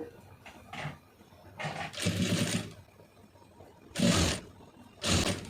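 A sewing machine stitches a blouse neckline in several short bursts of whirring, each lasting under a second, separated by pauses with faint background and quiet handling between runs.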